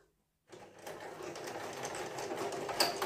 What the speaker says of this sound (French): vous allez commencer à coudre